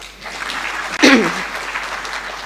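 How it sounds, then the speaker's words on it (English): An audience at the launch of the Teachers Service Commission strategic plan applauds for TSC, with steady clapping and a voice rising briefly over it partway through. "You should give TSC a clap."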